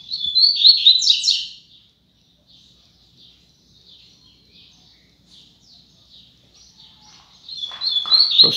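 A female Double-collared Seedeater (coleiro) gives bright, rapid chirps up close, with a loud burst at the start, faint scattered calls through the middle, and another loud run of chirps at the end.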